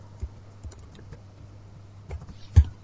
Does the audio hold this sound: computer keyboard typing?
yes